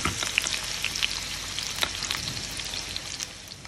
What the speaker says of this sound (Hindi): अब हम इसमें डालेंगे अदरक, मिर्ची, और इसको थोड़ा हल्का ब्राउन होने देंगे।